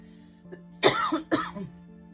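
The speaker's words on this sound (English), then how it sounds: "Pardon me for coughing." Two harsh coughs in quick succession, close and fairly loud, over a quiet steady hum.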